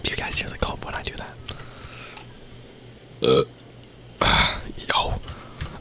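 A person burps gassily after drinking soda: two short, close, loud eructations about a second apart, set among soft whispery breathing and low murmuring.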